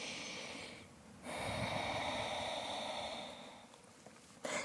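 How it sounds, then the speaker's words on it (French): A deep yoga breath drawn in and let out through the nose, a soft, airy rush that swells, holds for a few seconds and fades, alone and close. "On prend une dernière grande respiration ici."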